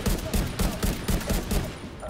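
A powerful new rifle in The Division 2 fires in a quick, regular string of about six loud, close bursts with no pause between them.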